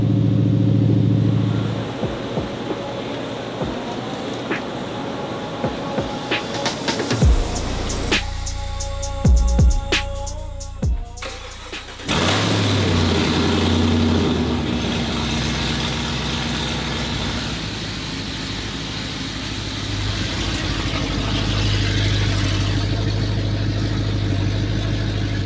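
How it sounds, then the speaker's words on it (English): A car engine misfiring on cylinder six runs close and loud at idle with an uneven, lumpy rumble, briefly dropping away and clattering mid-clip before resuming its rough drone. "it is misfiring on cylinder six"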